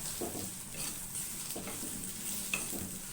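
Raw mango pickle with spices stirred and cooking in a pan, soft scraping strokes and a faint sizzle repeating at a quiet, close level with no voices.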